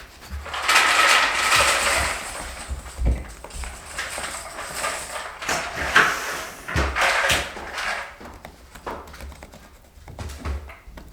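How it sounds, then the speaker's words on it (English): New doorknobs being fitted to interior doors in a mobile home, with close mechanical clicks, latch rattles and handle turning in irregular bursts and no talk over it. "I'm gonna carry on with some hole filling, and we're gonna install our new doorknobs."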